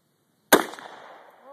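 A single loud AR-15 rifle shot cracks close by outdoors, followed by a long echoing decay.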